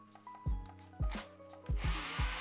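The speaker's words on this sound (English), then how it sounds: "And then I grip the axle with the sandpaper, still in the drill, to give the surface a nice shine again." A battery drill spins a Matchbox Opel Diplomat axle gripped in sandpaper, with several short whirring bursts that start and stop at close range, ending in a brighter grinding hiss.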